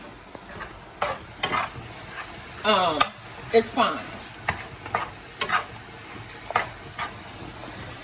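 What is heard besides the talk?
ground beef frying in a cast iron skillet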